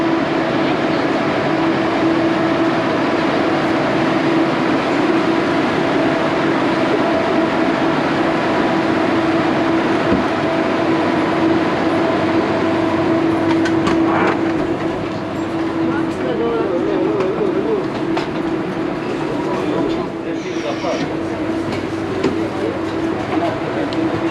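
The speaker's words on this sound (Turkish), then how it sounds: "Geldi bak böyle hızlı trenler var." A high-speed airport train in Malaysia rumbles steadily for a long stretch, with a constant hum and occasional rattles, while people talk faintly in the background.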